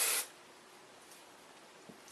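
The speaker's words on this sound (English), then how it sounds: "just take it and spray it on my bangs as well" Hairspray sprayed onto bangs while curling hair, a single short hissing burst at the start followed by quiet, with a faint second puff at the very end.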